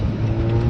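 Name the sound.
V6 car engine revving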